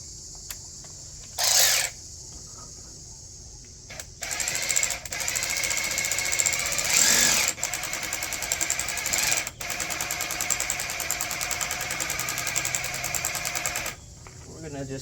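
A power tool buzzes steadily, driving in a screw on a 2001 Toyota Solara turn signal lens, with short bursts at first, then a sustained whir that cuts off near the end; brief voices are heard beforehand.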